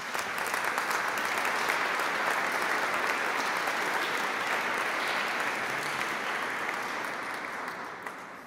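Audience applause at a church concert, a steady wash of many hands clapping in a reverberant hall that slowly fades toward the end.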